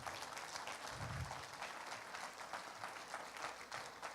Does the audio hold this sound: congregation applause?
yes